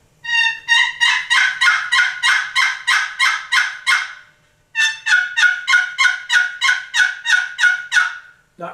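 A Primos wooden box call played to imitate a wild turkey, giving two rapid runs of loud, evenly spaced yelping notes with a short pause between them, close and clear with no talking.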